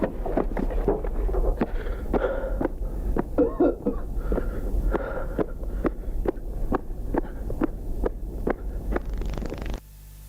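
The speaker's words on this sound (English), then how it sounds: "he begins to start coughing" A man coughs again and again in harsh, evenly spaced bursts that keep coming for about ten seconds, each one sharp and close. The fit stops abruptly at the end.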